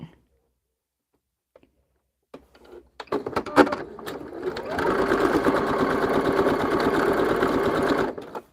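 A sewing machine starts with a few clicks and short bursts, then runs at a steady fast whir for several seconds, loud and close, before stopping abruptly.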